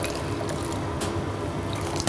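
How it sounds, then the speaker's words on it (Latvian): Hot water from blanching poured through a sieve into a sink, a steady splashing gush that carries on through the whole stretch with no talk. "Izlējam šo caur sietu."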